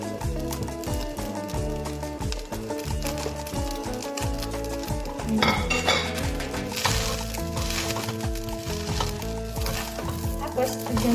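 Spatula stirring vegetables into Chinese sausage pineapple fried rice in a hot pan, with steady scraping and sizzling throughout and a louder stretch of tossing midway, no talk.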